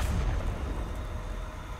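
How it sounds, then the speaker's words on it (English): A big explosion in an online PvP video game, a loud low rumbling boom that starts at full strength and slowly fades out over a couple of seconds. "that's one hell of an explosion, dude"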